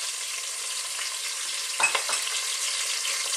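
Chopped fresh garlic sizzles loudly and steadily in a hot pan, close up, with a brief clatter partway through.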